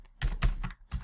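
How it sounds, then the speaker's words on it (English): Rapid keystrokes on a computer keyboard while coding a C# program, several quick bursts of clicks close to the mic with short pauses between them. "before I finish typing this"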